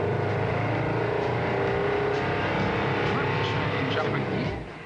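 Compressed-air powered prototype car pulling away as the clutch is let out, giving a steady, fairly loud mechanical rush and whir that fades slightly at the end, with a person talking over it.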